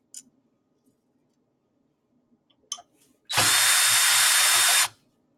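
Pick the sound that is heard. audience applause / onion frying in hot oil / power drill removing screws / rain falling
power drill removing screws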